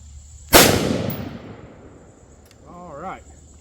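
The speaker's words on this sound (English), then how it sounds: "put this mag in, and we'll finish our last shot here" A single loud, close rifle shot from a Davidson Defense Cutlass AR-15 cracks sharply and rings off, followed by someone briefly speaking afterward.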